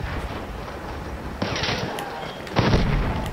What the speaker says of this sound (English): Getting shot at somewhere.